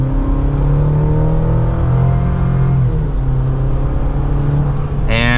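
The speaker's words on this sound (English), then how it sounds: "let's go ahead and get this out on the road. And with a mild acceleration" A 2024 GMC Canyon AT4X AEV Edition pickup truck pulls away under mild acceleration, its engine note a steady, loud low rumble from inside the cab, with a voice speaking over it throughout.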